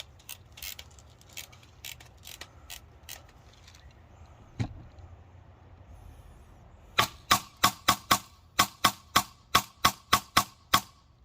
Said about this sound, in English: Rewind the mag a little bit